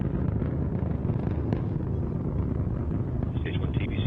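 Antares rocket engines at full thrust during ascent, a steady, dense broadband roar that fills the clip without letup, with a faint higher tone near the end.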